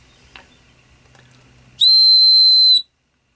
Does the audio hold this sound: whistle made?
yes